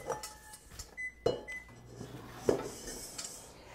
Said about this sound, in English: let's just put that in the microwave for 20 seconds or so